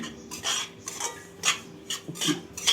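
Semolina (rava) roasting in a pan for upma, a utensil scraping and stirring it in steady repeated strokes, close and fairly loud with no talking.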